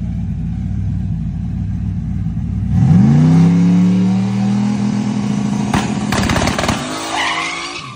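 A race car launches in second gear on a daytime test run. A steady idle gives way to a loud rising engine roar, followed by sharp tire squeal and skidding near the end.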